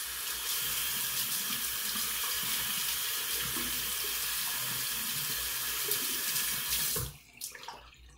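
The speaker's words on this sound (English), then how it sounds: "I'm gonna turn on the hot water" Hot water runs steadily from a tap to soak a boar-bristle shaving brush, a continuous close splashing flow that cuts off abruptly near the end, leaving a few faint drips and clinks.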